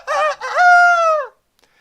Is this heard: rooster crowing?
yes